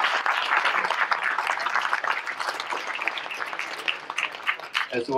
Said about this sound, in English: Let's please give them some applause and gratitude.